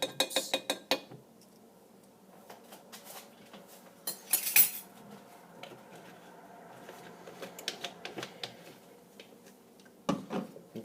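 A spoon clinks against a pot while vanilla extract is stirred into a Pepsi cake mixture, with scattered metallic taps and scrapes, a louder clatter near the middle and a final knock, close and without talking.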